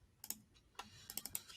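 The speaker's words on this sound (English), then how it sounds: "I'm typing in Alex, and again, we're using that general split." Typing on a computer keyboard, a few quick bursts of close, faint key clicks in an irregular rhythm with quiet gaps between them.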